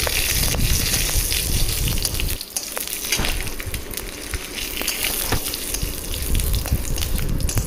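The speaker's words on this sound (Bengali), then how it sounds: "এই জিরেটা ভেজে নিচ্ছি।" Cumin seeds fry in hot oil in a pan, a loud, dense crackling sizzle that runs throughout, with brief stirring knocks and one short dip midway.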